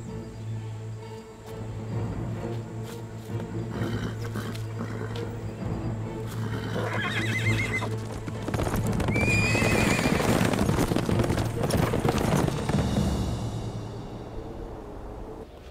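Hooves of a horse that has lost one of its shoes clip-clop steadily over several seconds, with a whinny cutting in midway, fairly close and loud against an outdoor background with no talking.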